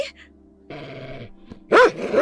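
A large dog gives low growls, then a sudden loud, close bark breaks out near the end, followed by a snarl. There is no talking.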